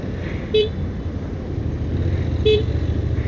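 Two short car horn toots, about two seconds apart, over steady road traffic noise.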